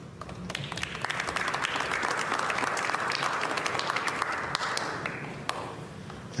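Sustained applause from a snooker crowd at the 2023 Northern Ireland Open, a dense, steady wash of many hands clapping close by that swells, holds for several seconds and fades slightly at the end, with no talk over it.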